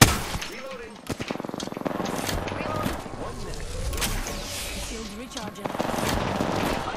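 Video game shootout with bursts of rapid gunfire and sharp cracks scattered through the whole stretch, mixed under steady talk from players.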